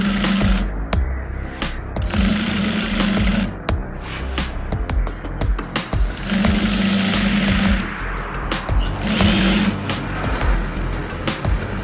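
A sewing machine stitches a pant grip in several short motor bursts of rapid whirring, separated by pauses filled with handling and rustling. The sound is loud and close.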